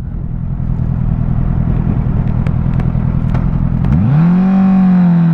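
A motorcycle engine idles with a steady low rumble, then revs up sharply near the end, the pitch climbing and holding loud and close.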